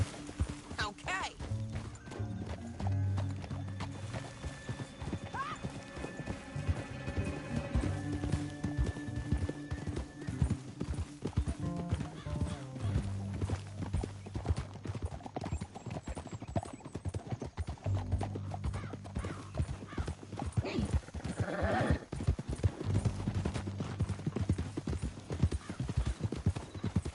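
Horses gallop in the Red Dead Redemption video game, a steady rolling clip-clop of hooves with an occasional whinny, continuing throughout under game music and brief spoken dialogue.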